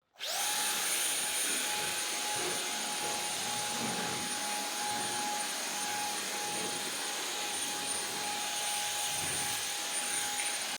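A Ryobi 18V compact brushless handheld leaf blower runs steadily and loudly throughout, a constant whooshing airflow with a high whine, alone with no talk.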